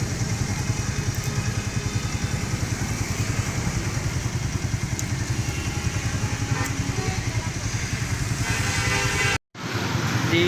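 A motorcycle engine runs steadily close by, its low, even rumble carrying on without a break for about nine seconds before it cuts off briefly and comes back.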